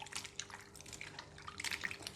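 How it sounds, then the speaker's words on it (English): Bitter gourd being rinsed under running tap water in a kitchen sink, a steady splashing, dripping stream that stays close and fairly quiet throughout with brighter bursts of splatter near the end, no voices. "now we're going to rinse it off with water"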